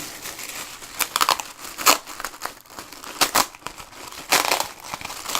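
A plastic bag holding an amp being handled during an unboxing, with close crinkling and rustling in irregular bursts and sharp crackles, loud and near, with no talking.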